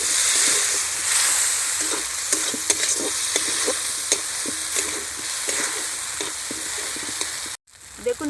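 Masala sizzles in a kadai after a splash of water, with repeated spoon scrapes and stirring clicks over a steady frying hiss, broken by a brief pause near the end.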